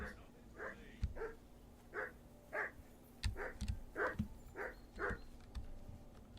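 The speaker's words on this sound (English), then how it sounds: "I assume you can hear that damn dog of yours barking." A dog in the medieval video game Kingdom Come: Deliverance 2 barks again and again at a steady, evenly spaced rhythm, each bark fairly close and clear over a low, constant background hum.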